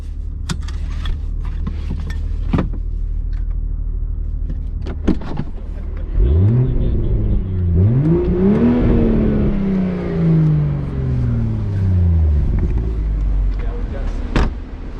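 A 2023 Toyota GR Supra 3.0 with a six-speed manual revs hard on a race track, its engine note climbing, dipping at a shift, then rising again before fading, with people talking over it.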